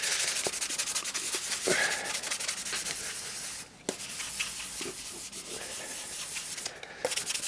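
Steady, close abrasive scraping of sandpaper flat-sanding a wooden TARDIS model, continuous with a few brief pauses, loud and alone with no voices.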